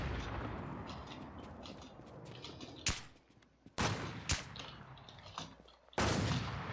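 Several loud gunshots from the video game Infestation: The New Z, fired from a VSS Vintorez rifle, crack out irregularly over a steady background rumble, with faint chirping ambience between the shots.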